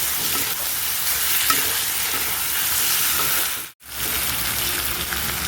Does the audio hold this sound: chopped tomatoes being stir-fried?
yes